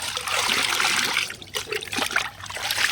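Liquid fertilizer poured and stirred in a mug for garden plants, a close continuous trickling and splashing that breaks into lighter sloshing toward the end, with no talk.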